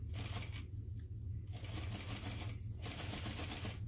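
A sewing machine whirs in two short bursts of rapid stitching along a zipper seam on a clutch bag, separated by brief pauses, close and steady.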